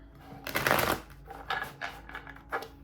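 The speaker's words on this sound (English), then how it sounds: "I'm gonna do one more shuffle," Tarot cards being shuffled in a few quick riffling bursts, a longer rustle near the start followed by shorter flutters, close and fairly quiet.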